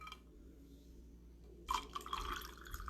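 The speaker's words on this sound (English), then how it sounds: "Pouring in our cherry cider." Cherry cider pours into a glass of orange juice with ice, starting abruptly after a quiet pause as a close, bubbling, splashing stream that keeps running to the end.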